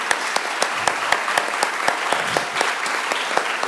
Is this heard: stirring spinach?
no